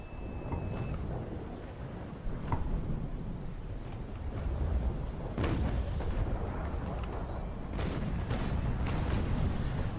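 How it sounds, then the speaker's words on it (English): Cannons fire from a warship's upper deck during a naval battle game, with several deep booms and cracks over a continuous rumble of sea and ambient battle noise. "Shots from my upper deck."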